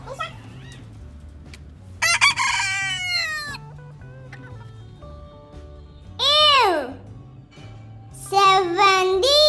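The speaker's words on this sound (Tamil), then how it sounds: "சேவல் காலையில கொக்கரக்கோன்னு கத்தும்" A rooster crows several times with loud, drawn-out calls, alongside clucking hens and a low repeating musical backing.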